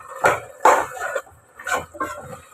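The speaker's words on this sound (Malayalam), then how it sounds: "അപ്പം ഇനി നമ്മൾ ജസ്റ്റ് ഒന്ന് ഇളക്കി കൊടുക്കുകയാണ്" A utensil scraping and knocking against a pot while chicken curry is stirred, several distinct clanks in an uneven rhythm, close and fairly clear.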